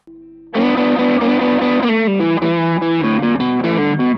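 Stratocaster guitar driven through a Joyo Ultimate Drive overdrive pedal, a sustained, gritty, distorted melodic line with notes blending into each other, loud and steady with nothing else audible.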